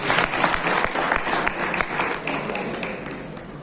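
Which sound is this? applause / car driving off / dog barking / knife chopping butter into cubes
applause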